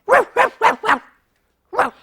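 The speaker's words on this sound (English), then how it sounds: "I had no idea it was a barking pencil case." A toy pencil case gives five bright, high-pitched yapping barks in a quick run of four, a pause, then one more, close and clean with no talk.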